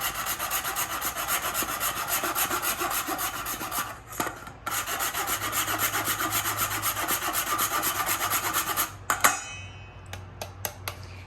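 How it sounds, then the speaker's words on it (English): Fresh ginger being grated for Guyanese sweet cassava bread, a loud rhythmic rasping scrape in quick strokes close up, pausing briefly midway and ending in a few light knocks, with no speech. "I'm gonna grate some ginger in here as well."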